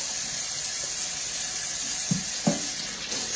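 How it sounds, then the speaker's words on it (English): Hands are rinsed under a running kitchen tap while a beef and broccoli stir fry is being prepared, a steady close rush of water with a couple of soft splashes and bumps near the end. "I'll rinse my hands off here a minute"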